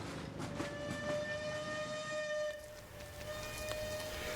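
Steam train pulling out of a heritage railway station in the evening, a sustained tonal whistle over a rolling rumble, heard from a moderate distance.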